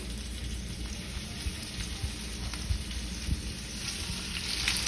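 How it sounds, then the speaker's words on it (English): Chicken browns steadily in a hot buttered pan, a continuous soft frying hiss with occasional small pops and crackles, no voices. "Got the chicken. I hear a little sizzle."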